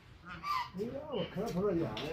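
Several ducks quack and honk in quick, nasal bursts, fairly close, calling over one another.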